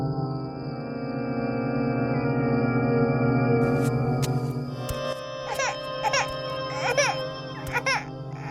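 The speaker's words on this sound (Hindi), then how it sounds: "ये रोने की आवाज कैसी?" A baby cries, wailing steadily and loud close by, then breaks into shorter sobbing bursts with a few sharp background clicks.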